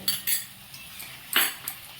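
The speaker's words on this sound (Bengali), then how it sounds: "এবার ভালো করে এটাকে নাড়াবো" A utensil stirs cauliflower in yogurt in a pan over a low flame, producing a few soft scraping clinks of metal against the pan in irregular bursts, close and fairly quiet with no talk.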